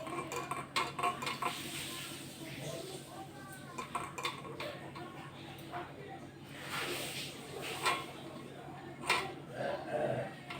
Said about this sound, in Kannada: ಇವಾಗ ಇಡ್ಲಿ ಪಾತ್ರೆ ತಗೊಂಡು ಎಲ್ಲದಕ್ಕೂ ಚೆನ್ನಾಗಿ ಈ ಥರ ಎಣ್ಣೆ ಹಚ್ಕೋಬೇಕು